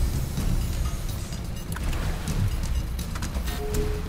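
Motorboat engine in the Fortnite video game, a steady broadband drone with low rumble and water wash running continuously at fairly loud level, with faint tonal game effects toward the end.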